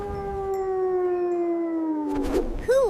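A wolf howls alone in one long, sustained, slowly falling tone with clear harmonics, ending in a brief rising call at the close.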